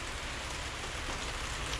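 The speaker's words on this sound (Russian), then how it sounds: "И еще идет дождь." Steady, dense rainfall hissing and pattering on a surface in the Altai mountains, continuous and fairly loud with no other sounds.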